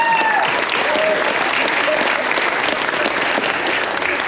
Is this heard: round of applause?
yes